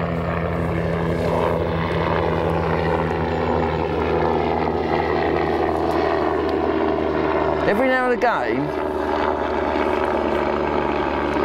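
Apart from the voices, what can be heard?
helicopter flying over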